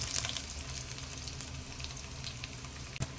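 Chopped onion sautés in hot oil with cloves and cardamom in a pan while cooking rava kichadi, giving a steady, close, crackling sizzle with an occasional stirring clink near the end.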